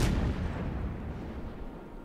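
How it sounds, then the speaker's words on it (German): A cruiser fires its naval guns in the video game World of Warships: one heavy booming salvo followed by a long rumbling decay, heard alone. "Jetzt schießt sie zurück."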